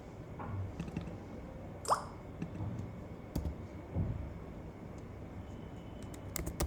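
Fairly quiet, sparse clicks of typing on a computer keyboard while setting up schemes in an Xcode project, with scattered individual keypresses and a few sharper taps, no talking.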